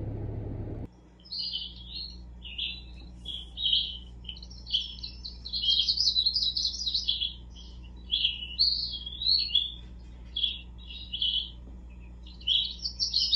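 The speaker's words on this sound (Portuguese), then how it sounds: "Cadê o passarinho?" Small bird chirps steadily in quick bright bursts through most of the span, moderately close over a low indoor hum, with a brief burst of other noise at the very start and no talk.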